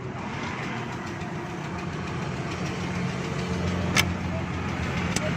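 A Toyota pickup truck engine with a starting problem runs steadily at a low rumble, close by, with a brief sharp click partway through and faint voices in the background.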